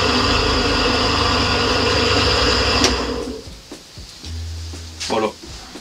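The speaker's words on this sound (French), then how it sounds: "Et maintenant, le bruit du nouveau, donc le moteur à induction." A Parkside PDB 100 A1 wood lathe's induction motor runs with a loud, steady hum for about three seconds, then cuts off and winds down, leaving a few quiet knocks.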